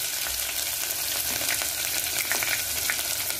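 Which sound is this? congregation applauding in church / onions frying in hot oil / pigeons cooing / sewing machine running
onions frying in hot oil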